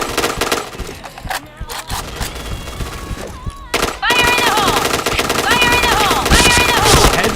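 Gunfire in a video game: rapid bursts of automatic shots and single cracks, loud and close. Game music and effects continue throughout, and a voice can be heard in places.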